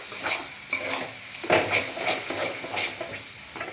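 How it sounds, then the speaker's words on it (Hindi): A ladle stirs fish and spices frying in a pan, giving a crackling sizzle broken by repeated scraping strokes and soft clinks at a close, moderate level. "इसे चलाते रहें ताकि ये मसाले जले ना।"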